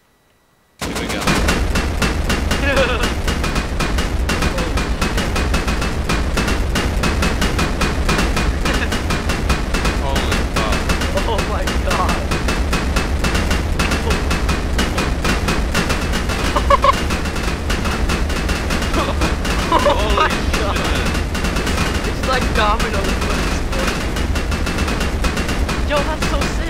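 A long chain of land mines detonating one after another like dominoes, producing a dense, loud, continuous rattle of blasts that runs unbroken for over twenty seconds after a short silent start, with voices faintly underneath.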